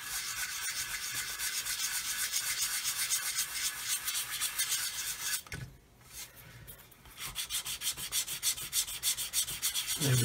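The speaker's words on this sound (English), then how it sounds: "we're sanding away plastic here" Plastic on a Roden 1/144 C-141B Starlifter model kit is sanded in fast, rhythmic back-and-forth strokes, close and scratchy, with a short pause midway before the rubbing resumes.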